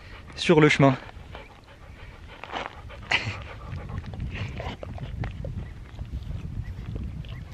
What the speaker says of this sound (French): il y a un chien qui vient de me rejoindre